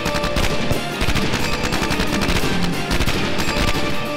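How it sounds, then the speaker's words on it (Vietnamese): Dense, continuous automatic gunfire fills a dubbed action film scene, rapid loud bursts overlapping without a pause. "Bắn tiếp đi, áp chế họ."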